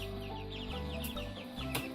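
Chicks raised on a farm for chicken CSA members peep steadily in a rapid stream of high, thin chirps that carry on throughout, close by with no talking.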